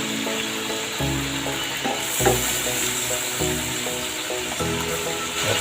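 Garlic frying in hot oil in a wok for chopsuey with quail egg, a steady bright sizzle running throughout, broken by repeated scraping and clinking of a spatula stirring at regular intervals.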